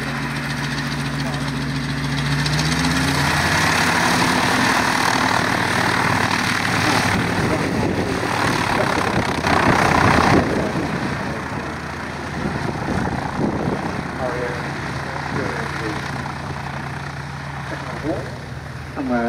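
A Westland Lysander aircraft at the Shuttleworth Military Pageant air display, its propeller engine droning loudly and steadily with a shifting pitch as it passes, while a commentator talks over it.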